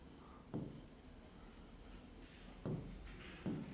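Chalk or marker taps and strokes on a classroom board during a biochemistry lesson, with three short, distinct writing bursts over a quiet background and no talking.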